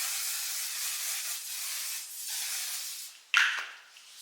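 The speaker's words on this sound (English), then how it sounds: "I'm going in with this One Size On Till Dawn Mattifying Waterproof Setting" Several short bursts of One Size On Till Dawn mattifying waterproof setting spray misting out, soft breathy hisses with brief gaps, the last puff sharper and louder, no voices.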